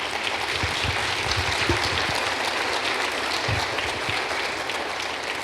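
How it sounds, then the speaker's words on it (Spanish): A church congregation at a Spanish-language service breaks into sustained applause, a thick, even wash of clapping from many hands that continues for more than five seconds without speech. "Le damos a Dios un aplauso."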